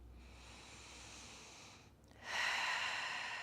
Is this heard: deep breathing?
yes